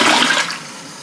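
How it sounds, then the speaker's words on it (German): A toilet in a travel bathroom flushes in one short, loud rush of water that quickly dies away, heard alone without speech. "die Spülung kann ich ja einmal demonstrieren"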